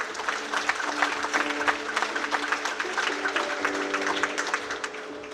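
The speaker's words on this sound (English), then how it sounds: "A well-deserved round of applause." Audience at a cold chain industry event gives sustained applause, a dense even wash of many hands clapping at moderate volume with no one speaking over it.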